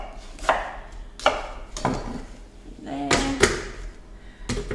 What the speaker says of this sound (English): I'm just going to chop my onions there.